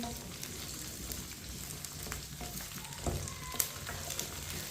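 Potatoes and okra frying over medium heat for aloo bhindi, a soft steady sizzle with occasional stirring scrapes and a sharp clink near the end, fairly quiet.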